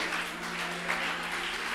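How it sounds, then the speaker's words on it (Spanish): A church congregation applauds in a short, steady wash of clapping heard at a distance over a low room hum. "Denle un aplauso."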